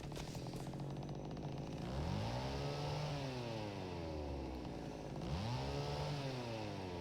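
Chainsaw wielded by the Saw Runner in the horror game Cry of Fear, revving in two rising and falling surges, loud and close with a steady engine drone between them and no talking.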